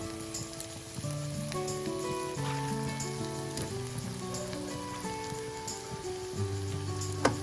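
Cooked rice for vegetable fried rice hits a hot pan and sizzles in a dense, steady crackle, with faint clinks layered over the frying and no talking.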